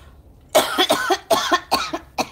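A person coughs repeatedly in a rapid, rough series of about six hacks, close and fairly loud.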